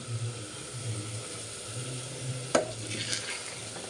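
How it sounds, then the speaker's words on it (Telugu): Food stirred in a hot pan, a steady sizzle and fry hiss running throughout with soft scraping strokes and one sharp metallic clink partway through, close and moderately loud, no talking. "అది మళ్ళీ కలుపుతా ఉండాలి"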